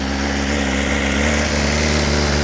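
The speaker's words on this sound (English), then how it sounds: "I want you to hear how the S1000 sounds with 7 miles on it on a cold start" A bone-stock BMW S 1000 RR motorcycle with 7 miles on it idles high right after a cold start, a close, loud, steady engine drone with no talking.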